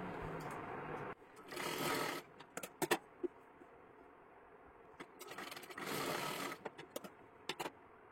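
A domestic sewing machine stitches straight seams on fabric for a girl's one-piece dress, running in two sustained bursts separated by short clicks and taps of handling. The sound is close but quiet, with no talk.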